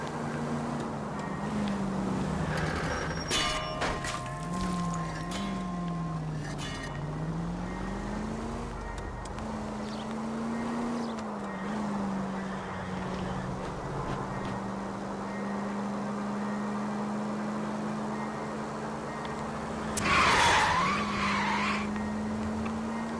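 A car chase in the video game L.A. Noire: a sustained engine drone with wavering pitch runs throughout, and tires squeal and skid loudly near the end.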